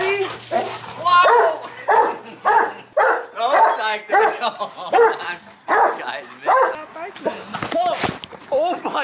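A dog barks and whimpers in short excited bursts amid lively, overlapping talk from several people close by, the animal's yips mixing with the voices throughout.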